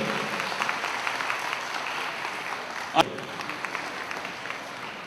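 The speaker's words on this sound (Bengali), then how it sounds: "একটু জোরে হাততালি সুদীপার জন্য" An audience applauds a female anchor at a televised homemaker contest, a steady wash of clapping from a crowd kept up for several seconds, with a sharp single knock partway through and talk faintly mixed underneath.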